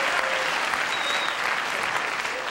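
Sustained studio audience applause break during Eddie Murphy's stand-up set on the Carson show, a thick, even roar of clapping from a large crowd.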